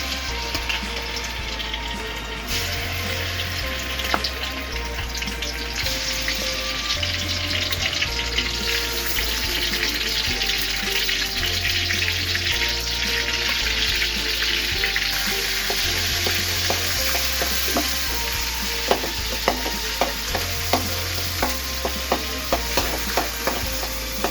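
Garlic paste browning in a pan, giving a continuous frying sizzle with a watery, bubbling texture and scattered sharp crackles that build toward the end, with no voices.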